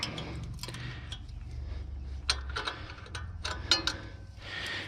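Wrench tightening a bolt on a 2007 Freightliner Columbia turbocharger, a quiet series of irregular metallic ratcheting clicks and taps up close.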